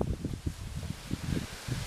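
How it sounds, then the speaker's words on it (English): Strong wind gusts buffet a house during a windy day, a steady broadband roar with rustling surges and low thumps, the structure creaking faintly beneath. "There's some real big gusts over here, the house creaking."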